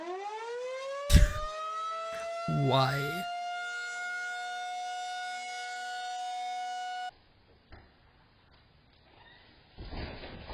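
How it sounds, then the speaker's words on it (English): A tornado warning siren, privately bought and shown off, sounds a single long rising tone with strong harmonics that holds steady and loud for several seconds, then cuts off. A short spoken word and other brief sounds come through near the start and after the siren stops. "they bought a tornado siren on the internet and loves to show it off"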